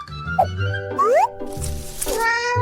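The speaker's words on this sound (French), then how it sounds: "Alors, un bébé qui miaule? Je le savais. Vous ne pouvez pas aller à l'hôpital avec des chats." A cat shut inside a backpack gives several short, rising and falling meows in quick succession, close and fairly loud, with a few soft rustles between calls.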